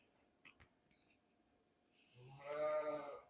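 Dairy sheep that are milked in a parlour on a sheep farm, with faint knocks early on, then one sheep bleating loudly and close, nasal and wavering, near the end.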